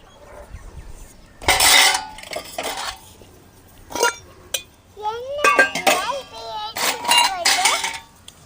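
Dishes and a pot clink and clatter as millet payasam is poured into a brass vessel and covered with a lid, a few sharp metallic knocks and scrapes spread across the moment, close and fairly loud, with a voice speaking in between.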